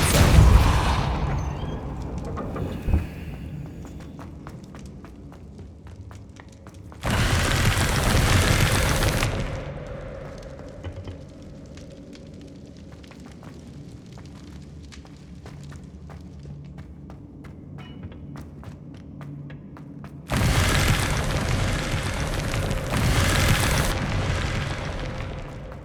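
Depulso spell blasts in Hogwarts Legacy: loud, broadband bursts of rushing, booming noise that erupt abruptly, with quieter footsteps and ambient game sounds in between.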